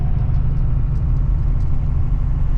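A Cummins diesel in a square body truck loping at about 1500 RPM in 4th gear while climbing a washboard hill at 35 to 40 mph, a loud, deep, rhythmic rumble that pulses steadily and fills the cab.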